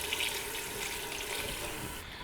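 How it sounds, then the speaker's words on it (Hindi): A glass of water is poured into a pan of fried chicken feet masala, giving a steady, fairly faint rush of liquid that cuts off at the end. "अब मैं इसमें शामिल करूँगी पानी। पानी में इसमें लूँगी 1 गिलास।"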